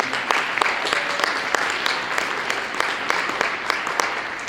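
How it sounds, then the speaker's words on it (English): Sustained audience applause at a sustainability summit, dense steady clapping from a large crowd with a few sharper individual claps standing out, continuing evenly throughout. "Big round of applause for Matt and his whole team."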